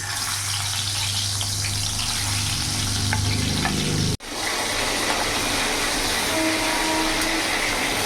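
Fish heads dropped into hot refined oil set off a loud, continuous close sizzle and crackle that runs throughout, broken by one brief sharp pause midway, with no voices.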